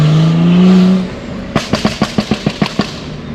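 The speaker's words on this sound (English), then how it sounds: "Shifts so fast, bro. Like the engine spins down so quick." A BMW engine revs high, then drops off, followed by a rapid series of sharp, evenly spaced pops and bursts as it spins down, close and loud.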